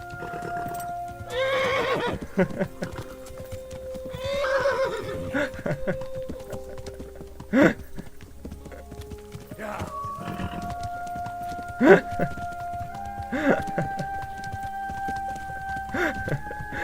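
A horse in the game Kingdom Come: Deliverance whinnies loudly twice, followed by scattered clip-clop hoofbeats and further snorts, with someone talking over parts of the scene.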